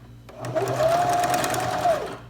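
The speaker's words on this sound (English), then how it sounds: "So now that my pins are in, I'm going to sew these side seams together." Sewing machine stitching the side seams of a fabric card wallet, one continuous steady whir up close for about two seconds.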